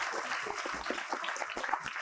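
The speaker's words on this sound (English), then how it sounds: "A louder clap, please." An audience at a finance conclave on consulting claps briefly, a thin scattering of individual claps that stays light and somewhat distant for a couple of seconds.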